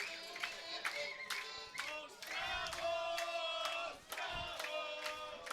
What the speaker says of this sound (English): And the crowd is singing along this.